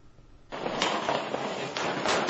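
A sudden loud bang followed by sharp crackling gunfire blasts during a military drill in the port of Odessa, with a second burst near the end.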